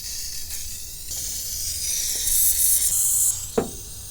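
Aerosol lubricant sprayed onto the engine linkages of an old barn-find car, steady close hissing spray bursts with a brief louder blast near the end and a small knock.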